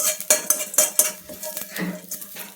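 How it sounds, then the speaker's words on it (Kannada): Garlic, cumin, curry leaves and coriander being fried lightly in a pan for rasam, heard as sharp metal spoon clinks and scrapes against the pan over a faint sizzle. "ಈಗ 1-2 ಬೆಳ್ಳುಳ್ಳಿ, ಸ್ವಲ್ಪ ಜೀರಿಗೆ, ಕರಿಬೇವು, ಕೊತ್ತಂಬರಿ ಸ್ವಲ್ಪ ಲೈಟಾಗಿ ಫ್ರೈ ಮಾಡ್ತಾಯಿದ್ದೀನಿ."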